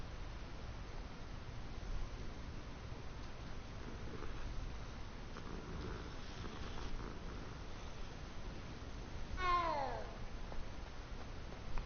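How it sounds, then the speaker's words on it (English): A single short cat meow from the video game Hogwarts Legacy rises near the end, clear over a steady hiss of in-game ambience. "The cat meows are just..."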